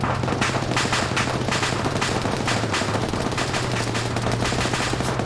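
Gunfire in a large 150-player Cold War PvP video game battle: loud, continuous rapid automatic fire and overlapping shots form a dense, unbroken barrage with no pauses.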